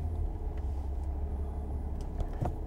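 A 2009 Mercedes E320 Bluetec diesel with a boost problem pulls away in first gear, its engine giving a steady low rumble heard from inside the car, with faint clicks over it.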